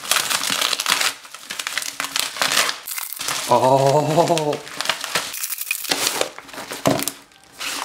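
A package holding a Bluetooth keyboard for a Samsung Galaxy Tab 10.1 is torn open and unwrapped, giving close, loud bursts of crinkling, ripping paper and plastic. A brief vocal exclamation and a short tonal sound break in partway.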